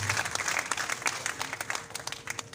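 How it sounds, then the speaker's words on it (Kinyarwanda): An audience at a wedding claps in a dense, steady burst of applause that fades slightly toward the end, with a faint voice beneath it. "umuryango wacu umukomera amashyi"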